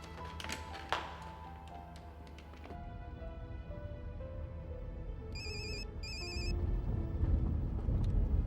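A telephone rings in two short electronic bursts, fairly clear over a low room hum after some earlier tapping sounds.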